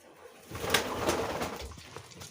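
A racing pigeon coos softly nearby, a brief low burbling call rising and fading in a couple of seconds.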